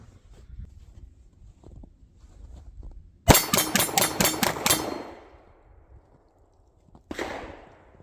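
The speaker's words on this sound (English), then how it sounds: "let's try end this on a little bit of rapid fire here" A Smith & Wesson Shield Plus pistol in .30 Super Carry is fired outdoors in snow, giving a sharp burst of about seven rapid, loud shots with ringing clangs, then one more report after a pause.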